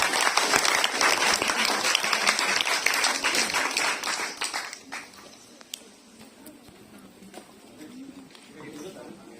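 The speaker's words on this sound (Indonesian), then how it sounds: "tepuk tangan kepada Bapak Ibu" Audience applause for guests at a Joged Pingitan dance event in Bali, a full burst of crowd clapping that fades after about five seconds into scattered claps and room murmur.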